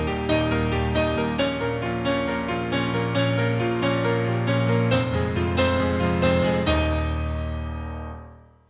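Solo piano plays a song, the right hand voicing the cascading arpeggio figure in octaves over sustained bass notes, bright and full, ending with a decaying final chord; no voices.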